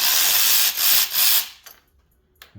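A ratchet with a 5/8 spark plug socket loosens the spark plugs on a Saab 9-3 2.0L engine: a loud, rasping grind for about a second and a half, then a few scattered metallic clicks and taps.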